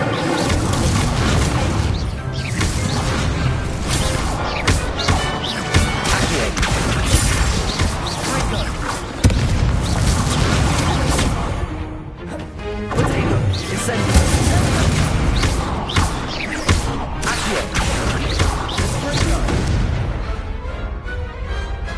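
Incendio fire spells erupt in the video game Hogwarts Legacy, a continuous barrage of loud booms and crashing bursts in busy battle sound, with speech mixed in throughout.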